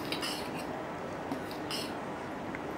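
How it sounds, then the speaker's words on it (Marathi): Rice batter with Eno whisked in a bowl: steady fast scraping and tapping of a whisk or spoon against the bowl, continuous and fairly faint throughout, no voices. "तर इथे इनो टाकल्यावर चांगलं फेटून घ्यायचं."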